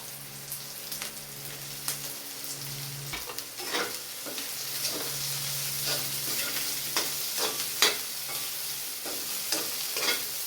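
Leftover fried fish stirred into a pan of sautéed onions and vegetables, giving a moderate sizzle broken by scraping stirs and clatters; a low hum runs underneath during the first few seconds.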